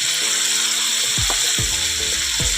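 Vegetables, a whole tomato and ginger paste fry in a pan for khichuri, with a steady, bright sizzle throughout and a few dull knocks and scrapes of a spatula against the pan.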